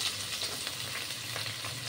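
Potato, pointed gourd and papaya pieces sizzle and crackle steadily in a hot pan for Bengali sukto, a close, continuous frying hiss with small pops and no voices.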